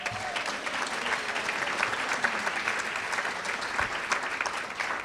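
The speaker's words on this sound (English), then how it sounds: "please, a round of applause for our committee tonight" Steady applause from a dinner audience at a charity fundraising dinner, honoring the event committee; dense clapping holds for about five seconds at an even level, with faint voices mixed in.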